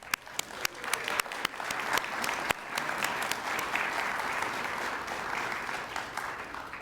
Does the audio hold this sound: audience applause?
yes